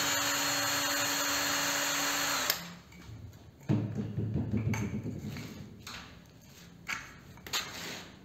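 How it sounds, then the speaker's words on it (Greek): A power tool backs a screw out of a wall anchor: a steady high whine for a couple of seconds, then rougher grinding and rattling bursts as the screw loosens, with a few sharp clicks. "Βγάζουμε από πάνω τη βίδα."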